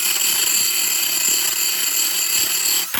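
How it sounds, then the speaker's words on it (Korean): A power drill fitted with a grinding stone bit runs at a steady, continuous high whine with a gritty grinding texture, loud and close throughout with no talk. "돌을 꼽아 가지고 그냥 갈면 돼"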